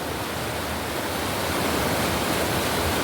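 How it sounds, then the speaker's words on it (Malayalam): Floodwater rushing down from the mountains, a loud, dense, continuous roar of churning water that fills the whole scene without a break. "മലയിന്ന് വരുന്ന വെള്ളം അല്ലേ ശരിക്കും ഇത്"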